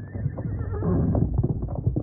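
In an old Lone Ranger radio drama, a horse gives a loud, close whinny with hoof clops after a bad fall, the call trailing off into snorting sounds.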